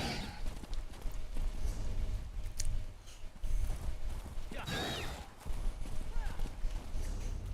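Hoofbeats of a horse cantering in the fantasy role-playing game Arcanist repeat steadily throughout over constant background game music, with a brief rise of effects near the middle.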